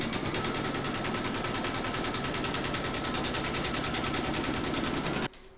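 An embroidery machine stitches a placement outline for in-the-hoop poinsettia bunting, its needle hammering in a rapid, even mechanical rattle that runs steadily and then stops abruptly near the end.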